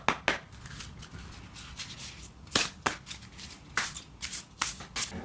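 Oracle cards from a Moonology deck being shuffled in quick riffling bursts, with sharp flutters and snaps repeating several times, close and fairly quiet.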